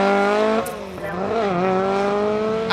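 Ari Vatanen's Allied Polymer Escort rally car pulls away from the stage, its engine holding a strong harmonic drone that dips and rises as it shifts and accelerates, loud and fairly close.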